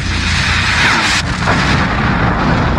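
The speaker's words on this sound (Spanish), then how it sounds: "esa dinamita estará a punto de explotar" A cartoon dynamite explosion: a loud, sustained broadband roar with a rumbling low end, cut by a sharp burst about a second and a quarter in, and no voices.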